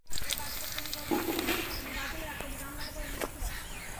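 Semolina fries in two spoons of ghee in a village-style wok and gets stirred lightly, making a continuous close sizzle and hiss with faint scraping. No one speaks.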